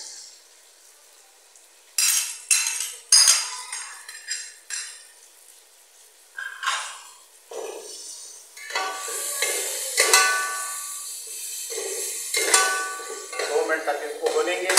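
Chopped tomatoes are stirred into frying masala for an aloo palak dish. After a quiet start come repeated sharp clanks and scrapes of a spoon against the pot, over a soft, growing sizzle.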